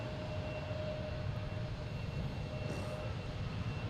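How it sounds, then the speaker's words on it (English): A Delta airliner bound for Cincinnati takes off at Boston Logan, its engines giving a steady, broad roar that holds evenly throughout without fading. "Now we got Delta taking off, heading to Cincinnati"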